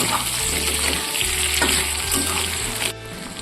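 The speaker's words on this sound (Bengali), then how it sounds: "এই পেঁয়াজের মধ্যেই আলুগুলো দিয়ে দিচ্ছি, দিয়ে একটুখানি তেলে নেড়ে চেড়ে নিয়ে" Onions and potatoes sizzle and crackle steadily in hot oil, with scraping stirring strokes in the pan, close up and continuous, for a Bengali egg curry, with no voices.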